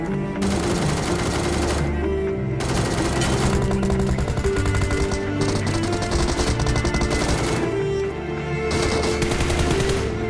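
Rapid automatic gunfire from the mobile battle royale game BGMI, played on an iPad 9th gen, with dense bursts of shots rattling almost continuously and brief gaps between volleys, loud and with no talking.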